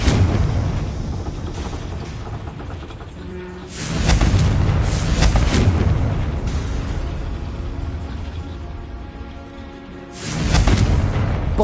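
Confringo blasting spell explosions in Hogwarts Legacy, loud booming blasts at about four and ten seconds, each rumbling and decaying over the steady din of a battle.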